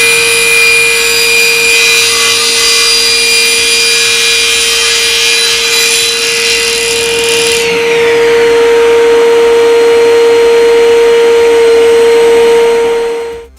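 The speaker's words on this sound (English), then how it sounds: "We can start the saw, switch on the extraction because we're using MDF, and cross-cut it through with ease" A SIP professional cast iron table saw runs with dust extraction on while cross-cutting MDF: a loud, steady motor hum and whine whose tone shifts partway through the cut, then winds down at the end.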